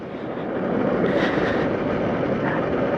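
A Suzuki Raider 150 motorcycle engine runs with a steady, close, rough drone that holds at an even level for a few seconds, with no voices.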